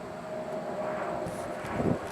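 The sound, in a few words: Hobbyzone Sport Cub S RC plane motor and propeller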